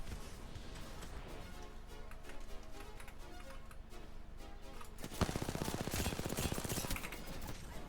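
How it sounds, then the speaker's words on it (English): Rapid video game gunshots crackle in dense bursts, faint at first and then a louder, sustained volley of rapid fire toward the end. "As soon as somebody hears shots,"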